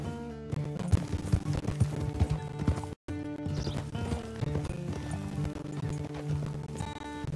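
Horse hooves galloping in Red Dead Redemption 2, a steady rapid clip-clop with snorts and whinnies over a continuous in-game ambience, briefly cut out midway before resuming.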